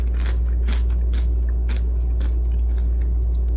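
Crisp crunching bites into fried shallots, several in quick succession, close up over a constant low hum.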